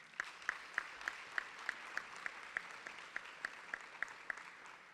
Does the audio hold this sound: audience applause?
yes